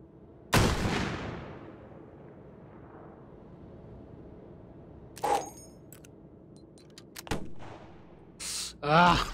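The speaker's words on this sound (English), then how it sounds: "Ah, rockets." A loud rocket blast in the VR shooter Hot Dogs, Horseshoes & Hand Grenades, a sharp boom that rolls off into a long fading rumble, followed by a few smaller thumps and clanks toward the end.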